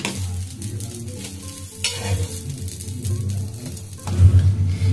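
Atlu, a South Indian pancake, frying and sizzling in a pan, cooked crisp: a steady close hiss with scraping stir noises and a louder burst near the end, no talking.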